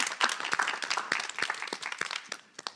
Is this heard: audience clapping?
yes